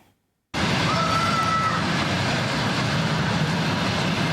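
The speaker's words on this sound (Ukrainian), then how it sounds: "На залізничний вокзал столиці прибуває потяг Хелм Київ." The Chelm–Kyiv train pulling into Kyiv railway station, a loud steady rolling rumble and roar that starts abruptly after a short silence, with a faint high squeal early on.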